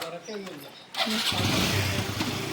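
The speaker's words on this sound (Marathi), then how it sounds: "तर आता आम्ही संकेतच्या गाडीवर चाललोय 3 जण" A motorcycle carrying three riders on a village outing kicks into life after a second of voices, its engine catching abruptly and settling into a steady, close, fairly loud idle.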